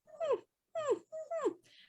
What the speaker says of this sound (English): You're going to hear a lot of my dog whining through this whole show too.